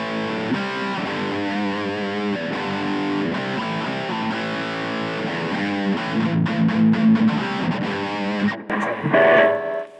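Electric guitar played through a Boss Katana Mini amp on its brown channel with the gain pushed high gives thick, sustained distorted chords and riffs for about nine seconds before stopping abruptly into a brief noisy tail.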